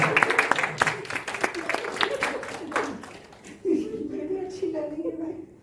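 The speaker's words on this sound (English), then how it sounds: "A big round of applause for Pooja ji there." Applause from an audience at a talk session, a dense burst of clapping that tapers off after about three seconds as voices and talk take over.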